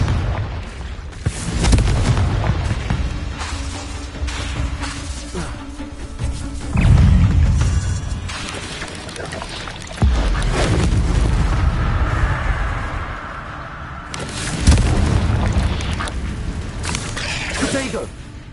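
Confringo fire spells from the Hogwarts Legacy video game burst in a run of loud, booming explosions with crashing debris, several big blasts spread across a dense, continuous battle din, with a voice speaking over parts of it.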